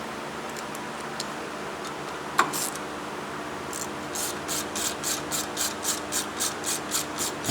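A greased thread tap is worked down into a hole by hand, giving a faint, close rasping scrape with a steady run of rhythmic ticking strokes in the second half and one sharp click partway through.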